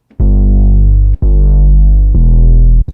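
A loud, wide 808 bass built from two detuned Serum 2 oscillators plays three long sustained notes in a row, each starting with a punchy attack, with no other sound.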